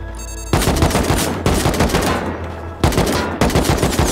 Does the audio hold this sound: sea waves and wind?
no